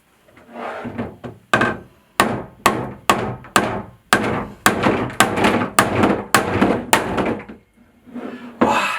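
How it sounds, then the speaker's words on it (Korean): A hammer strikes a Bianco di Puro blender container again and again, about fifteen loud, sharp knocks in an uneven rhythm, close up and with no voices. "이번에는 비앙코 디프로의 컨테이너를 망치로 때려 보겠습니다."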